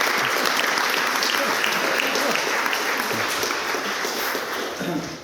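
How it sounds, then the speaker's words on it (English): An audience at a speech event gives a big round of applause, dense, steady clapping that fills the room at close range and tapers slightly toward the end. "So big round of applause for those two,"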